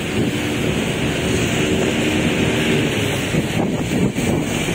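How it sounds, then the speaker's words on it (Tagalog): Strong super typhoon wind roars steadily across the microphone, loud and unbroken throughout, with a heavy buffeting rumble. "Ang lakas ng hangin nitong talaga super typhoon."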